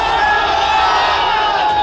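Crowd of agitated supporters gathered outside a police station amid tension, a dense steady roar of many voices shouting and calling out together, loud and continuous throughout.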